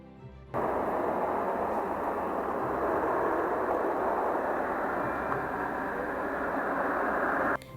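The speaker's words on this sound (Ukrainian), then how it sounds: "Чуєте цей вітер? Він сильний." A steady, loud broadband roar of strong wind blowing without pause for several seconds, with no voices.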